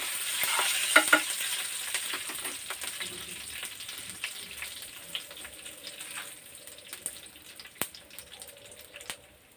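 Tempering of turmeric and dal in hot oil, with a continuous soft sizzle and frying crackle, scattered sharp pops and light stirring clinks, close and fairly quiet.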